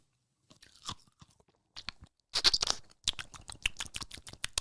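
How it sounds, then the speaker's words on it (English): Ice being chewed close to the mouth, sharp crunches in a few scattered bursts at first, then a denser run of loud crackling bites with brief silences between. "why am I chewing ice on live stream?"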